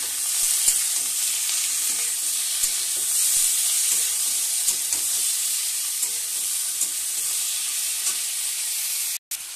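Chopped tomatoes hit a hot pan of oil for a fish curry with drumsticks, a steady close sizzle and frying hiss with small stirring clicks throughout.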